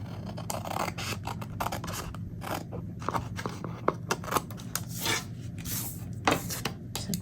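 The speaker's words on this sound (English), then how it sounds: "I'm going to take my scissors and I'm going to trim it" Scissors trimming excess paper along an edge during a papercraft receipt-holder project, giving a dense, continuous run of close snips and rustling scrapes with a faint low hum underneath.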